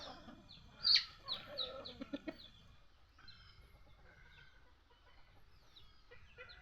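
A few soft clucks from free-roaming chickens nearby in the countryside, faint and intermittent over quiet background noise.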